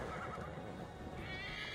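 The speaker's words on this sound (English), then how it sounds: "Let's just call the fucking horse." A horse in the Assassin's Creed Valhalla video game neighs loudly and close, with hooves clip-clopping underneath, and no talk in the brief moment.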